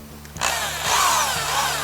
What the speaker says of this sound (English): We got a real long drill bit, and we're just going to kind of start our holes just a little bit